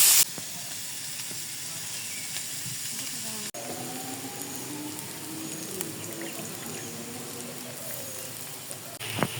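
Onions fry in hot oil with cinnamon in a home kitchen, a steady soft sizzle and hiss that runs the whole time, quiet and close, with a sharp clatter near the start.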